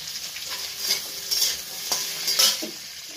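Vegetables are added and stirred in hot oil for a Sindhi curry, giving a steady close sizzle broken by repeated scraping and clinking strokes of the spoon against the pan, with no talk.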